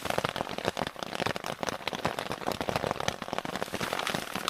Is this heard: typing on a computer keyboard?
no